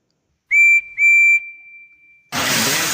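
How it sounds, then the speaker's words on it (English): A shrill steam locomotive whistle gives two short blasts and then a longer held note, followed by a loud rush of hissing steam. "And then he soon started to blow his whistle"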